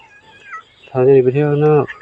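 A cat meows loudly and close, one long drawn-out wavering call, after a brief stretch of faint higher-pitched sounds, outdoors at a temple with children, turtles, rabbits, dogs and chickens around.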